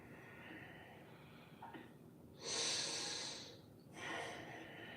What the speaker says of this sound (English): Start to deepen your breath.